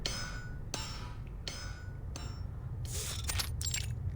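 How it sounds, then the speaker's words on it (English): A blacksmith's hammer strikes red-hot metal in a workshop in the game Reverse: 1999, four sharp metallic clangs at steady intervals followed by a brighter ringing clatter, close and clear with no talk. "His hammer strikes down heavily on the glowing, red-hot metal."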